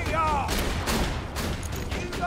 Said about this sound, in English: You're shooting at my turret while I'm right in front of you with a fucking shotgun.